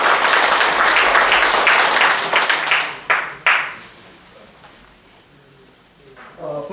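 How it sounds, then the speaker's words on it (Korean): Applause at an anniversary ceremony of a Busan civic association, with a burst of clapping from the audience that thins out into a few scattered claps and then fades to near quiet before a faint murmur returns. "그럼 뜨거운 박수 부탁드리겠습니다."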